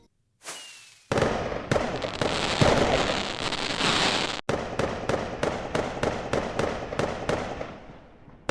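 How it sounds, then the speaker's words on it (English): Fireworks show on a Minecraft server in a video game: a dense, sustained crackling barrage of bursts, then a run of sharp, evenly spaced loud pops, with no talking. "there was a message sent out about a Disney Dreams fireworks show"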